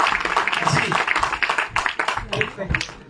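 Audience at a BJP joining event applauds to welcome Haji Yusuf, with dense, continuous clapping throughout and voices talking and murmuring underneath.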